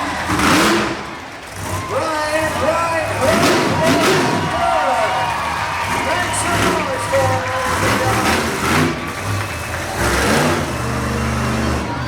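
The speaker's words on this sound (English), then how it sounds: "That got a crowd reaction." Loud crowd roaring and cheering in a monster truck arena, mixed with the rumble of a 557-cubic-inch alcohol-burning truck engine and an announcer's voice throughout.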